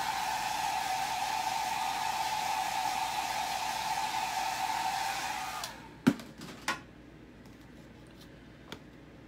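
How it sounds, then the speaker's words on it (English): A hair dryer blows a steady, loud whoosh to dry chalk on a menu board, then cuts off abruptly, followed by a few sharp clicks and handling thuds in the quiet. "I'm gonna use my hair dryer here just to make sure it's good and dry"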